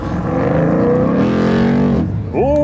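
A 1968 Camaro race car with an automatic transmission, called The Village Bicycle, roars loudly around a track lap, its engine note sweeping up through a gear, dropping, then climbing again near the end.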